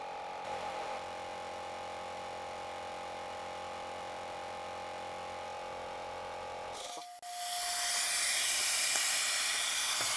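An air compressor with a leaking reed valve runs steadily with a droning hum, then cuts out and gives way to a loud, continuous hiss of air escaping from the open drain.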